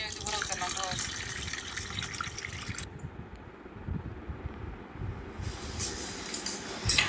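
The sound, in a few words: water poured onto chana dal to soak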